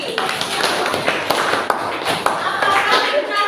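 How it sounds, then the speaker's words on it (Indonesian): Pupils in an elementary school classroom give a round of applause, a burst of scattered hand claps mixed with taps and overlapping voices. "Tepuk tangan Radit dan Fikri."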